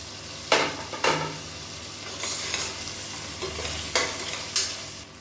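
Finely chopped tomatoes sautéing with ginger-garlic paste in a pan for a hotel-style kurma, with a steady low sizzle and several sharp, brief scraping stirs of a spoon, close and clear, no talking.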